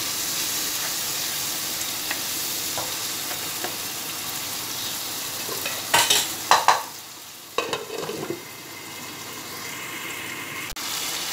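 Tomatoes and spice masala frying in a pan for bitter gourd curry, a steady close sizzle throughout, broken midway by a few louder stirring scrapes and clatters, no talking.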